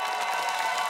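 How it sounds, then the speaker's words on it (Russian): Studio audience applause on a Russian television talk show as a guest is announced, a steady, dense wash of clapping and crowd noise at even volume throughout. "Аплодисменты, встречайте"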